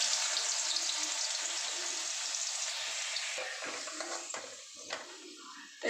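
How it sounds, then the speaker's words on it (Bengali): Potatoes fry in oil for a koi fish curry, a dense continuous sizzle that fades a little toward the end, broken by a few light clinks of a utensil against the pan. "প্রথমে আমি আলুগুলো ভেজে নিই।"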